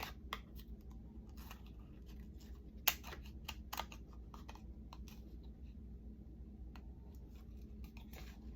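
Scissors snipping through folded card stock to cut out the centre of a playing card for a bookplate: quiet, close, irregular crisp snips and small paper scratches over a low steady room hum.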